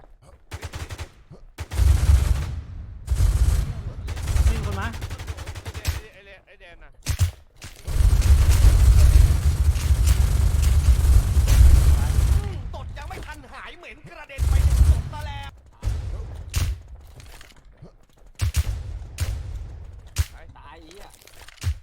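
Rapid bursts of gunfire and heavy blasts from the online shooter game Warz, loud and repeated in clusters, with excited voices talking over the action.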